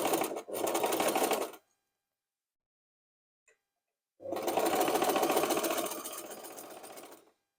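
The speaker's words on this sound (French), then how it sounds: "Je finis par coudre tout le tour." A sewing machine stitches around an Easter basket in two long steady whirring runs separated by a few seconds of silence, close and loud.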